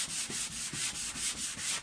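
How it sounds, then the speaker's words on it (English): Quick, rhythmic rubbing strokes of a superfine sanding pad across a copper metallic painted storage box, about eight back-and-forth passes, close and soft. "get your superfine sanding pad and do this"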